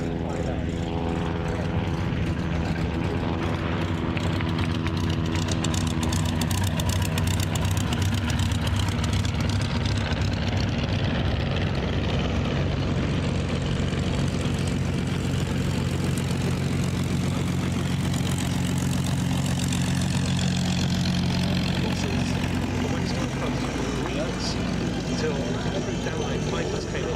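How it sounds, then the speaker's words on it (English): A replica Royal Aircraft Factory SE-5A propeller biplane flies at the Duxford airshow, its engine droning steadily and loudly throughout. A commentator's voice runs over the sound. "Getting airborne to join it, we have a replica Royal Aircraft Factory"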